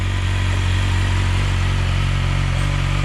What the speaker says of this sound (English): Bike is warming up.